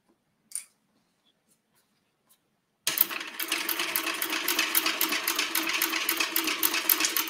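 Sewing machine with a cylinder arm stitching a bag, starting after a quiet pause and then running steadily with a fast, even mechanical clatter, close by.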